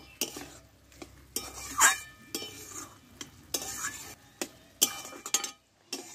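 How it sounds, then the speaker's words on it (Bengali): Spoon stirring a cucumber dish in a cooking pan, with irregular scraping strokes and light clinks against the metal over a faint sizzle, close and moderately quiet. "কিছুক্ষণ নাড়াচাড়া করে আমি নামিয়ে নেব"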